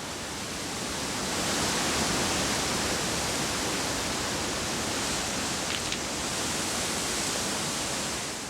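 A waterfall on a Norwegian salmon river roars as a continuous broadband rush, loud and steady throughout with no voices.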